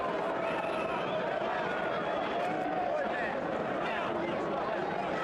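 Steady crowd murmur fills a boxing arena at Caesars Atlantic City before a heavyweight bout, a continuous babble of many voices with no distinct peaks and speech mixed into the wash.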